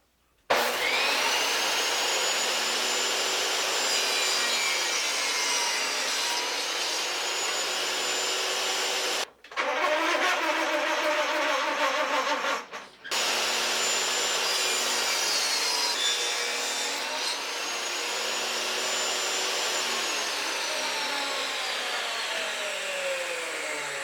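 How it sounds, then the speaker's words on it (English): A Sonocrafter oscillating multi-tool cuts and squares up wood corners on a vintage camper rear window, giving a loud, steady buzzing drone. It stops briefly partway through, then runs on again without pause. "I took the Sonocrafter and I just squared up these corners a little bit"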